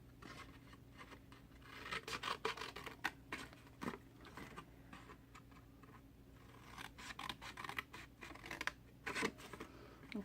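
Scissors cutting a scored cardstock piece in half, a close series of crisp snips and paper rustles in an irregular rhythm.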